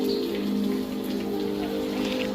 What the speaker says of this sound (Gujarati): દોસ્તો સોમા ચોમાસાનો સમય છે એના કારણે વરસાદ ભારે આવે છે તમે જોવ છો વરસાદનો અવાજ બી આવે છે